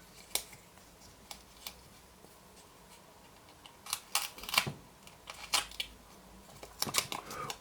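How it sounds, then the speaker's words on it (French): Scissors snipping excess double-sided tape while assembling a model fire truck, a scattering of sharp close clicks and short crisp cuts, with a cluster of quick snips in the latter half, no speech. "On vient couper un petit peu l'excédent de manière à ce qu'il y ait juste sur le dessus"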